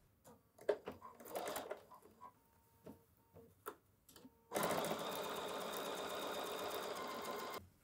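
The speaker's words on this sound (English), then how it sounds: "Now I'm just going to go sew this right along the seam" Sewing machine running along the seam of a quilted June Tailor project bag: scattered handling clicks and taps first, then a single sustained stitching whir of about three seconds.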